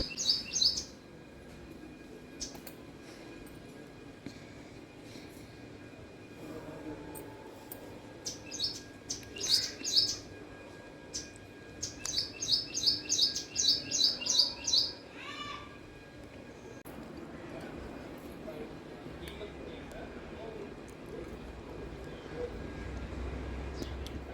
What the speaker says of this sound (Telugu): ఇక పక్షులు వచ్చినాయి చూడండి